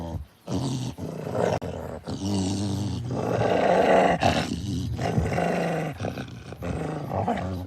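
Two farm dogs growl in deep, rumbling bursts, some long and some short, with brief pauses between them. They sound close and loud, with no talking over them.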